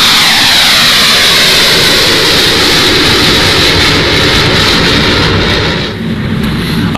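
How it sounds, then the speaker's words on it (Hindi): British fighter jet flying for a strike mission, a loud, close, continuous roaring jet engine rush that holds steady and dips slightly near the end, with no voices. "ये ब्रिटेन का लड़ाकू विमान देख रहे हैं"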